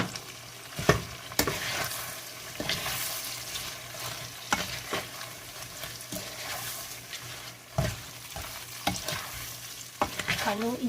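Shrimp sizzle in butter and powdered seasoning in a frying pan, with the soft hiss of frying broken by scattered scraping stirs and clinks of a utensil.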